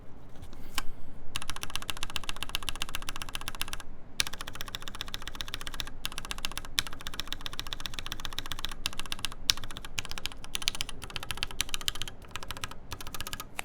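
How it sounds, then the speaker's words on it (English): Fast, continuous typing on a mechanical keyboard fitted with cap switches in a Bias v1.5 build, with dense, close, crisp key clacks running steadily throughout. "But these cap switches sound pretty good."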